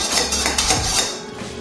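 Oil, vinegar, sugar, salt and pepper whisked together for a coleslaw dressing, a quick steady clatter of utensil against bowl, close and fairly loud.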